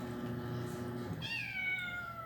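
A hungry stray cat lets out a clear, drawn-out meow, close and fairly loud, following a low murmur of a voice.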